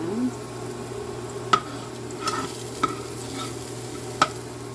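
Garlic frying in a pan with a steady low sizzle under a constant hum, stirred now and then, with a few sharp clicks of a utensil against the pan.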